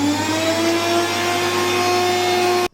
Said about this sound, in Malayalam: സവാള ആൻഡ് കറിവേപ്പില അരയ്ക്കാൻ പോവുകയാണ്.